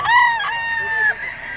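A four-year-old Sweater bloodline gamefowl rooster gives a single loud, close crow that rises, holds and cuts off, followed by quieter background noise.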